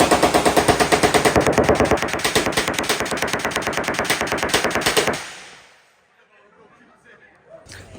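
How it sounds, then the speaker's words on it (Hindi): Loud, rapid, sustained automatic gunfire at the Cu Chi tunnels shooting range in Ho Chi Minh City, a long steady burst of evenly spaced shots that stops abruptly, leaving faint background noise. "यहाँ पे आते ही इतनी ज़ोर ज़ोर से धमाके हो रहे हैं"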